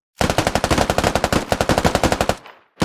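Rapid automatic gunfire from a squad fire team during training, a loud close string of about thirty sharp shots in steady rhythm, ending with a short tail and a final shot.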